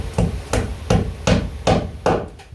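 A hammer drives ring nails into plywood being glued down, six sharp, evenly spaced blows about every 0.4 seconds, loud and close with short woody ring, no voices.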